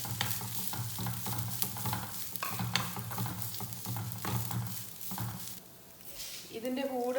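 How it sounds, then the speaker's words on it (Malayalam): Grated coconut, half a cup, stirred in a frying pan while preparing an Iftar starter, giving a steady sizzling, scraping stir that runs continuously at close range with no talk. "ഇതിലോട്ട് ഡയറക്റ്റ് തന്നെ തേങ്ങ ചേർത്ത് ഇളക്കാം"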